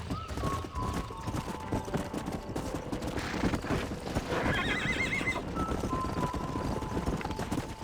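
Horse whinnying loudly and hooves clip-clopping in the Western game Red Dead Redemption, with a long neigh mid-clip over steady hoofbeats and faint background gunfire-like pops.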